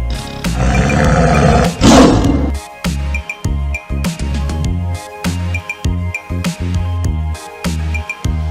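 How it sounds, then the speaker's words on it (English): A deep, powerful tiger roar rumbles for about two seconds before fading into a rhythmic backing beat. "Tiger, this is tiger."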